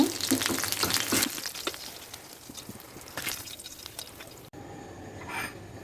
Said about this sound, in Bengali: এখন আমি ইলিশ মাছ ভাজা তেলের মধ্যেই পেঁয়াজ এবং কাঁচামরিচটাকে ভেজে নেব